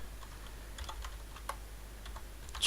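Soft, scattered keystrokes on a computer keyboard while setting up a Minecraft BungeeCord server, a few quiet clicks over a faint hum, no voices.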